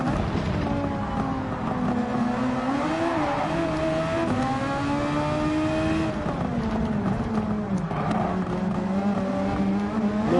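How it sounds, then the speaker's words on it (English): A Formula 1 car in Gran Turismo 7 slides under handbrake, its engine holding a steady loud whine that rises and dips through the slide, continuous and close with no talk over it. "A little bit of handbrake that time."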